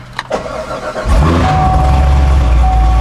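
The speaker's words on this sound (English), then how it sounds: "Let's start the car." Corvette Z06 with high intake and manifold air temperatures starting up: a few clicks and a brief crank, then the engine catches and settles into a loud, deep, steady idle close by.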